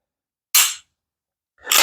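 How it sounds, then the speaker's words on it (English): Two sharp metallic clacks about a second apart as the slide of a Glock 17 Gen 5 pistol is racked during cleaning, each short and close with silence between. "Rack the slide while you're still holding the trigger down"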